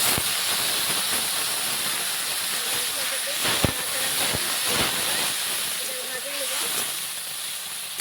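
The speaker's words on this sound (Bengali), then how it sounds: "তো এখানে আমি বাটা মশলা দিয়ে দেবো" A paste of ground onion, mustard and green chilli hits a hot pan over deep-fried onions for a village-style fish curry, giving a steady, close sizzling hiss with a few sharper crackles and faint voices in the background.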